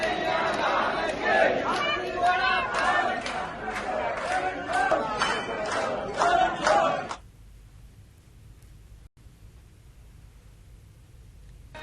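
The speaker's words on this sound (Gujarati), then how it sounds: "મંદિર પરિસરમાં ભક્તોની ભારે ભીડ જામી" A dense crowd of devotees fills a temple courtyard during a Dhuleti festival, loud overlapping shouts and chatter that cut off abruptly into near silence partway through.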